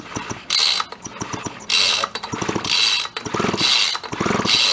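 An old Sears engine is spun over by hand after oiling, producing repeated ratcheting, clicking mechanical bursts with whooshing surges in an uneven rhythm, close up with no talk.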